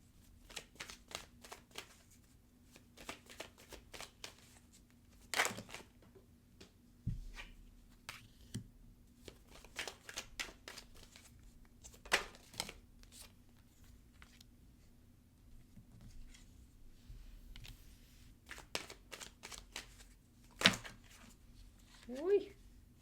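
Tarot cards are shuffled and flicked in scattered soft bursts of riffling and snapping, spaced out between pauses, with a voice speaking intermittently alongside.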